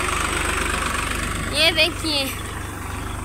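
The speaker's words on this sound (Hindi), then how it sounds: "और ये देखिए ट्रैक्टर से कर रहे हैं काम, और इसी तरह से करते देखो ट्रैक्टर का काम।" A tractor engine runs steadily while working a farm field, a low continuous rumble with a faint rhythmic pulse throughout, underneath a person talking close by.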